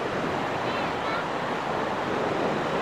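Ocean waves pushed by strong wind wash onto the shore at Mae Ramphueng beach in Rayong, Thailand, a continuous loud surf roar mixed with wind buffeting the microphone.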